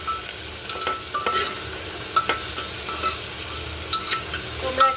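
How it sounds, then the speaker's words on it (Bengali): Garlic and onion fry in a pan while being stirred, a constant sizzling hiss with repeated spatula scrapes and taps spaced through it, close and fairly loud. "এই যে সবগুলো দিয়ে এখন নাড়াচাড়া করবো।"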